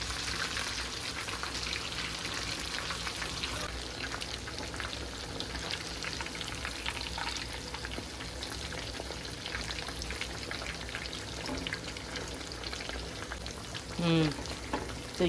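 Lahori fish frying in oil, a continuous close crackling sizzle like heavy rain, holding steady throughout with a brief louder spatter near the end and faint voices in the background.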